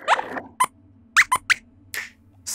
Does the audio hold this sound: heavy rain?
no